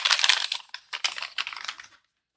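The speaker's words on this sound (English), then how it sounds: "let's get the parts out of the noisy plastic bag" Metal parts rattle and clink inside a crinkling plastic bag, a close burst of rustling and tapping clicks for about two seconds that then stops abruptly.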